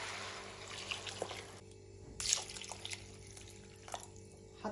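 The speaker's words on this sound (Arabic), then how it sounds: "حطيت كوب ونص مي" Water poured into a pot of prawn curry spiced with curry powder and cloves, a soft splashing pour alone in a quiet kitchen, with a few small drips and clinks.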